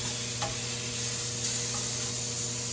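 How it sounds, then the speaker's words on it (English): Steaks sizzle in a frying pan with a steady bright hiss, broken by a few small pops and clicks. "Okay, the steaks are sizzling."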